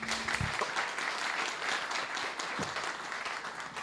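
An audience at an evening lecture event applauds, steady moderate clapping filling the room, somewhat distant, with a brief low thump near the start.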